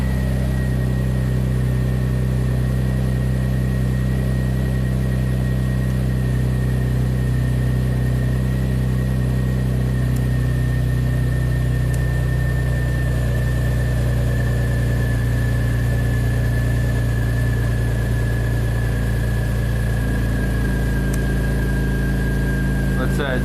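An Audi engine idles steadily after starting, following a crank no-start fault, with a constant low hum and a faint high whine held for the whole stretch and occasional talk over it.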